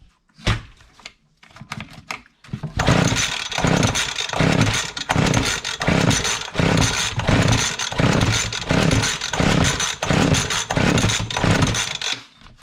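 Repeated pull-start attempts on a Weed Eater Excalibur 22-inch hedge trimmer's small two-stroke engine: a few quiet handling sounds, then about a dozen loud rhythmic rope pulls, each coughing briefly without the engine catching.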